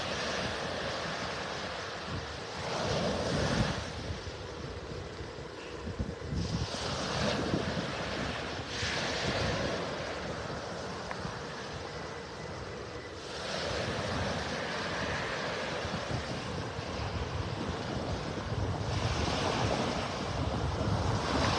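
Ocean surf washing onto a beach in North Naples, Florida, a steady broadband roar with swells rising and falling every few seconds, wind buffeting the microphone throughout and no talking.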